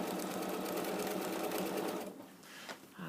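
A sewing machine stitches an iron and tool caddy in a quick, steady mechanical run that stops after about two seconds, leaving only faint handling noises.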